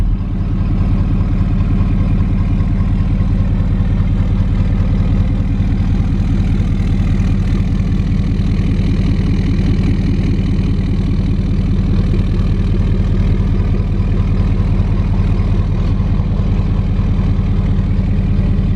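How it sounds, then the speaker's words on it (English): Turbocharged truck engine idling steadily with a new exhaust, a continuous low rumble heard close up outside, with no hiss, holding even throughout. "Now we're gonna go ahead and fire the truck back up and go outside and listen to this new exhaust tone that we got."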